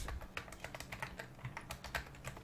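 Rapid, steady typing on a computer keyboard while entering code, a close run of quick clicky keystrokes with no one speaking.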